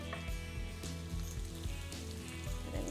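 Mushrooms sizzle in very hot olive oil with salt: a dense, crackling fry with pops and spatters, steady and fairly close, with no voices.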